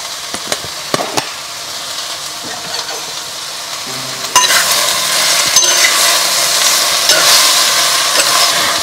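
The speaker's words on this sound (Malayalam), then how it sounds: "അപ്പം ഞാൻ ഈ അരിഞ്ഞു വെച്ചിരിക്കുന്ന പാവയ്ക്ക അതിലകത്തേക്ക് ഇടുവാണ്. പാവയ്ക്ക വന്നിട്ട് നന്നായിട്ട് ഈ എണ്ണയിലൊന്ന് വഴറ്റിയെടുക്കണം." Sliced bitter gourd sautés in hot oil. A quieter sizzle with a few clinks gives way midway to a sudden, louder, sustained crackling hiss as the slices go in and are stirred.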